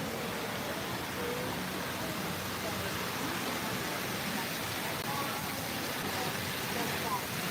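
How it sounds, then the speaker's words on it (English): An indoor water fountain in a shopping mall splashes in a steady, continuous rush that fills the space, with a faint murmur of voices mixed in. "I'll come over and show you the fountain"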